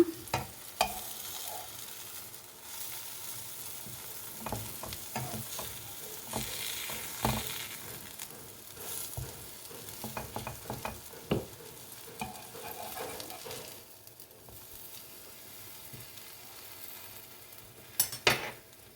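Bread cheese toast fries in a pan and is turned over, with a steady sizzle under scattered scraping and spatula clicks, a few sharper knocks near the end.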